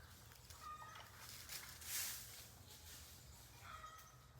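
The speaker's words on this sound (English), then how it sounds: "We get the net sound of the turkeys telling us to beat it." Turkeys gobbling outdoors, faint and somewhat distant, with a few short bursts of calls early and again near the end over quiet background noise, and no talking.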